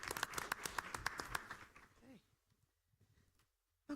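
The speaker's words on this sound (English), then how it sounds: "Let's give the DECA team one more big clap." An audience at a school board meeting claps together in a loud burst for about two seconds, then the applause quickly fades into near silence.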